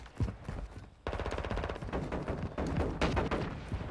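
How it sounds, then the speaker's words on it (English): Dense automatic gunfire rattles in the video game Call of Duty: Modern Warfare 2, loud and close, in continuous rapid bursts with a brief gap near the start. "I just hit that guy 4 times with my gun in single fire mode"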